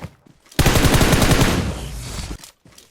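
Automatic rifle fire from a player loaded with 7.62 ammunition in PUBG Mobile: one loud, sustained burst lasting almost two seconds. It starts abruptly after a quiet moment and stops sharply, with no talk over it.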